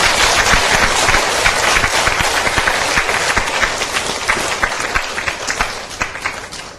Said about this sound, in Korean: 이제 박수 한번 쳐줘야지요.